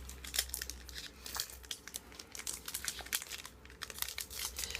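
Foil wrapper of a Pokémon card booster pack being torn open and crinkled, a sustained busy rustle of close crackles and tearing with no voices.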